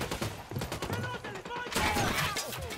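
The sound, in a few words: gunfire in the video game Ghost Recon Wildlands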